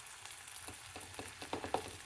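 Ginger garlic paste sizzling in hot oil with sliced onions and green chillies, a steady fry hiss broken by several sharp crackles and stirring scrapes, close and without voices.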